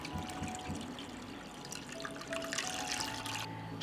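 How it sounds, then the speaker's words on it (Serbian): Water pours into a cooking pot lined with a cloth and holding jars, a continuous trickling splash that swells slightly toward the end, heard alone at close range. "Sipat ću vodu u šerpu do visine poklopca."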